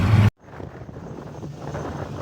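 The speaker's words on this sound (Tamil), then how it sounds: "காற்று வந்து பயங்கரமாக அடிச்சிக்கிட்டு இருக்குது" Strong wind buffets the microphone on a hill road near Pachamalai, a rough low rumble and hiss that cuts out briefly, then returns as a steady gusty roar.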